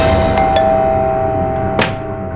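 A household doorbell chimes several times in quick succession over a steady electronic hum, with short bright ding strikes and one louder burst near the end, no speech.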